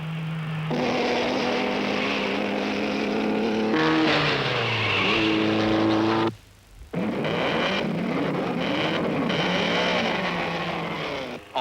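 Supercharged early racing cars roar at an Automobile Club Grand Prix, engines revving up and down in loud, sustained bursts with a brief drop to near silence midway.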